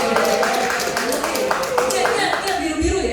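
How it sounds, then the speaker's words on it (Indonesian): Rhythmic clapping rises among a gathering at a madrasah education event, with regular hand claps beating under people talking loudly close by. "Tepuk tangan nih."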